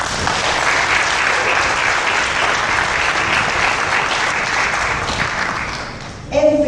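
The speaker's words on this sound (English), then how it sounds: "Let's give ourselves a clap." Audience at a UNICEF event in Australia applauds, a loud, dense and steady clapping that fills the space for several seconds before fading and giving way to a voice at the end.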